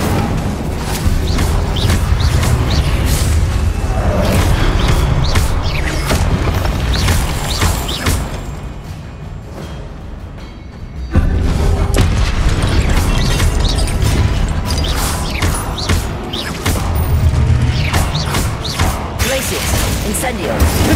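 Incendio, Confringo and Glacius spells explode in rapid succession in Hogwarts Legacy combat during the Percival Rackham trial, a loud, dense barrage of booms, crashes and whooshes. A brief quieter lull comes midway before the onslaught resumes.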